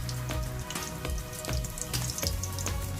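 Pork lumpia shanghai, a second batch, fry in hot oil with a steady, dense crackling sizzle and occasional sharper pops. The sound stays loud and close throughout, with no talking.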